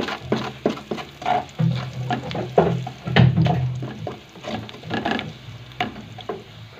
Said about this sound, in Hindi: अभी मैंने इसमें ऐड किया लहसुन, तो इसको थोड़ा सा ब्राउन होने के बाद मैं इसमें प्याज डाल दूंगी।